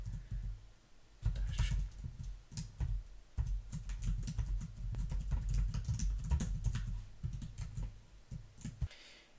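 Keys clatter on a computer keyboard in quick, uneven bursts of close, crisp taps with short pauses between runs.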